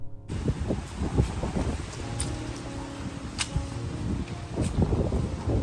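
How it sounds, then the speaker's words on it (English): Steady wind rushes and buffets the microphone outdoors during a fruit harvest, with faint rustling throughout; no one speaks. "It's a very windy day"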